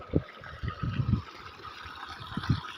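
Water gushes and splashes from a broken tap in uneven, bubbling spurts, close and moderately loud, with a steady hiss underneath and no voices.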